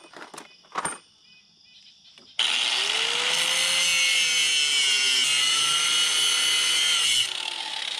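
Cutting wheel grinding through a rusty bolt on a crusty tandem axle trailer: a few faint knocks, then a loud, steady abrasive whine with a wavering tone that holds for about five seconds before easing off.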